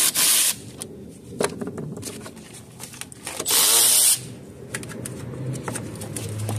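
Socket wrench with a 13 mm socket loosening the negative battery terminal on a 2012 Jeep Liberty 3.7, giving close, loud ratcheting and scraping bursts separated by quieter rubbing and handling of metal parts.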